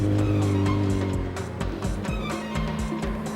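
A lightweight car powered by a Suzuki GSX-R 1100 motorcycle engine making about 190 brake horsepower screams along at full power, with its tires squealing through a short, loud, busy burst and no talk.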